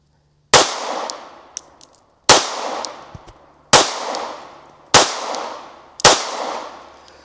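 Five loud, close gunshots from a Smith & Wesson Performance Center Bodyguard 2.0 Carry Comp .380 ACP compensated pistol, fired at slow, roughly even intervals, each a sharp crack with a short ringing decay.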